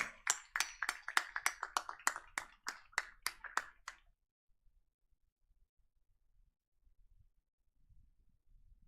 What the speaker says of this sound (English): And guys, please give a huge round of applause.